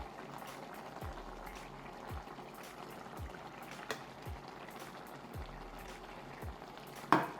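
Chopped tomatoes go into a mushroom chicken sauté frying on high heat, giving a steady low sizzle and bubbling with faint stirring taps and a brief clink near the end.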